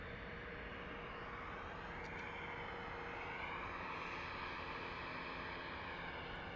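Airplane departing at night from Phoenix Sky Harbor Airport, a steady distant jet roar with a faint shifting whine, holding constant throughout and heard from afar.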